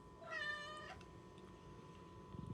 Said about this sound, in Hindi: लेकिन इसको मेरे साथ रहना है, खाना भी है, सब कुछ है, फिर भी म्याऊं म्याऊं